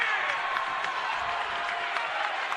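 Crowd at an NAIA college basketball game between William Penn and MidAmerica Nazarene, a steady wash of cheering and clapping from the stands, held at an even level and heard from some distance.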